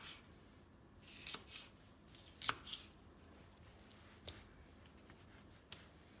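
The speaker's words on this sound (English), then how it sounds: "And we'll slice this one up." A knife cuts food on a board for a salsa chicken salad, giving several sharp, sparse chops and clicks spread across a quiet background.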